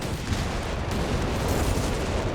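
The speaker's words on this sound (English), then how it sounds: "There's zeroing artillery coming down as well." Zeroing artillery barrage pounds the battlefield in Company of Heroes 3, a dense, continuous roar of shell blasts and rumble filling the whole stretch, loud and unbroken with no talk.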